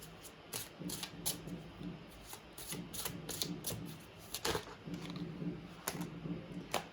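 Tarot cards being shuffled by hand, a quick run of crisp riffling flutters and soft slaps repeating steadily at close range.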